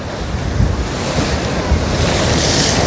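Sea waves crash and surge onto a beach in Jaffna, a steady loud roar of surf mixed with wind buffeting the microphone, with no voices.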